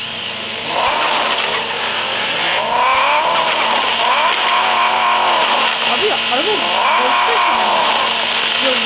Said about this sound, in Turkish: Araba şimdi brrrr diye gidiyor.